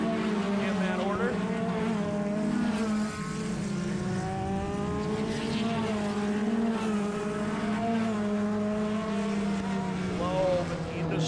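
Open-wheel race cars at Agassiz Speedway in Canada roar around the oval at the Fred Rannard Sr. Open Wheel Classic, with several engines rising and falling as they pass, heard under a race announcer's commentary.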